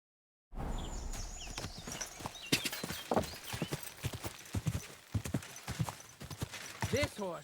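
Horse hooves clip-clop in a steady, loud walking rhythm in a video game, broken by a whinny near the end, with a voice calling out over the hoofbeats.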